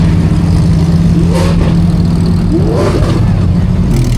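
A group of supercars pulls away together in a rally, including a Maserati, a Lamborghini Revuelto and a Porsche GT3 RS, loud engines revving and accelerating close by in overlapping waves.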